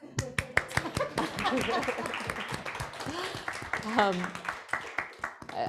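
A lone pair of hands claps sharply and unevenly, close and loud, at a panel discussion on student housing and youth homelessness, with people talking over and around the claps.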